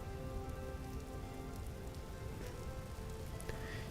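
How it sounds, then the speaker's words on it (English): Rain falls steadily in the survival video game Vintage Story, a soft continuous patter of drops on surfaces with faint scattered taps, quiet and even throughout with no talking. "It is raining"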